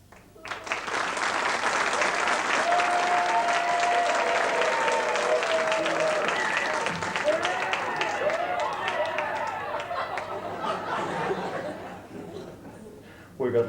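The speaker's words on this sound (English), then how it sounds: "Applause." Studio audience applauding at a 1980s Alice Springs comedy show, loud dense clapping that starts abruptly and holds steady for over ten seconds, with some chuckles and laughter mixed in as it slowly thins out.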